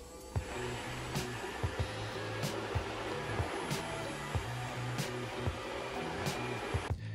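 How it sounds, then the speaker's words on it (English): A Roomba robot vacuum runs a normal cleaning cycle with a steady motor whine and brushing noise, marked by regular soft thumps and clicks at a close, even level. "I can release control and trigger just a normal cleaning cycle"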